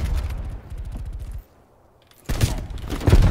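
Gunfire in Call of Duty Black Ops Cold War during a match with sniper rifle and shotgun: dense bursts of shots, a brief lull of near silence midway, then loud volleys again.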